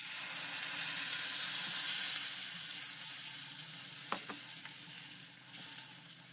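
Onion paste fries with cumin in a pan for a spicy fish karahi, a steady close hiss that eases slightly, with a couple of brief stirring clicks.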